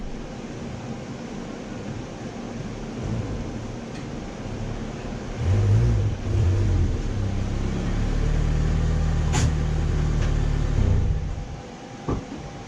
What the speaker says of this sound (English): So I'm gonna back this car out and it's time to bring the EF hatch in.